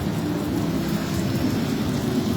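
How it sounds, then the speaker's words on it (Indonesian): Heavy rain pours steadily in Sinjai Regency, a dense continuous roar with low rumbling thunder beneath it throughout, loud and close with no voices. "Hingga saat ini hujan belum reda."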